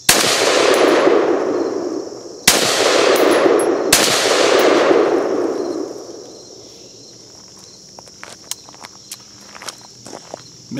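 Three loud AR-15 shots of 5.56 NATO rounds at a honeydew melon set on a blue barrel outdoors, spaced a couple of seconds apart, each with a long ringing decay, then quiet ticking and insect chirps.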